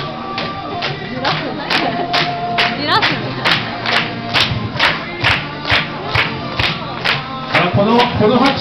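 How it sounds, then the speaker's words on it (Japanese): A stadium crowd at a baseball ground claps in slow unison, loud rhythmic beats about twice a second, with cheering and an announcer talking over them. "この拍手がまだ出られないということみたいです"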